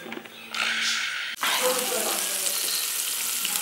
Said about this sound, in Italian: Guarda come sfrigola.